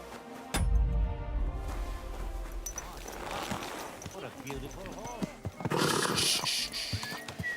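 A horse whinnies loudly and up close in the video game Kingdom Come: Deliverance 2, with hoof clops and other game sound effects around it, plus some voice in the background.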